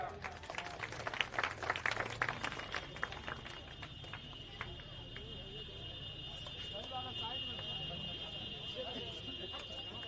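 Applause from an audience at a Bihar school honouring ceremony, dense clapping loudest in the first few seconds and then settling into a steadier patter, with a steady high electronic tone running underneath.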